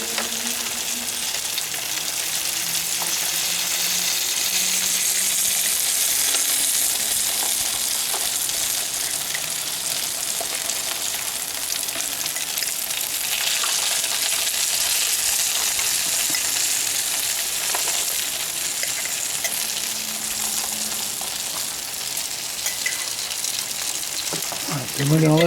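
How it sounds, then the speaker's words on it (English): Cauliflower topped with Parmesan cheese sizzling in a pan, a continuous close hiss of frying that holds steady for the whole stretch with slight swells, no talking. "we're going to let this cook down until the cheese gets all nice and brown"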